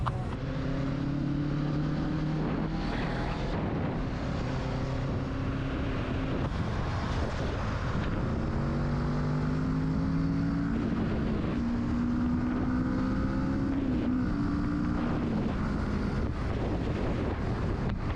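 A Kawasaki Z650 motorcycle accelerates hard while being ridden, its engine note rising through the revs with clear upward sweeps under steady, loud wind rush.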